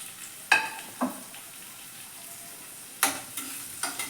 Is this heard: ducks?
no